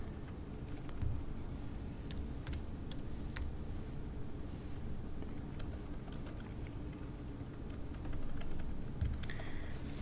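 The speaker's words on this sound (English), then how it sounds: "To access this, simply go to Google and type in IDOE." Scattered, quiet keyboard clicks sound over a steady background hiss as someone types a short search query on a computer.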